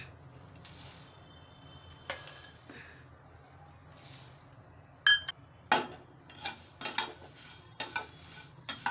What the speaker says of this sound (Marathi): आता मी मुरमुरे असे भाजून घेणार आहे एक मिनिट असं गरम कढईत भाजून घ्यायचं